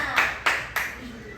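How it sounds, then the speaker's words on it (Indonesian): Three separate hand claps in a school classroom during a coding lesson, evenly spaced and sharp, with a faint voice trailing after. "Berarti tepuk tangan dong"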